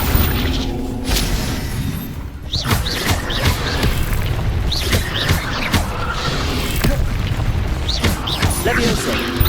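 Accio spell effects in Hogwarts Legacy, a run of whooshing magical bursts with booms and creaks amid busy combat noise, other spells and battle sounds mixing throughout at steady loudness.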